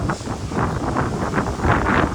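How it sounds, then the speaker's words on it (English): Strong wind buffets the microphone in rough, continuous gusts, loud and close. "Windy day."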